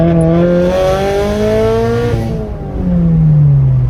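A loud Tomei 80R aftermarket exhaust on a turbocharged Subaru BRZ revs up in rising pitch, drops briefly, then roars again, close and aggressive with no talking.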